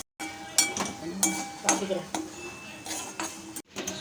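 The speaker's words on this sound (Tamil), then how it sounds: "நெல்லிக்காவை நம்ம ட்ரை ரோஸ்ட் தான் பண்ணணும்" Indian gooseberries dry roasting and being stirred in a pan without oil, giving repeated close scraping and clinking of a utensil against the metal in irregular bursts.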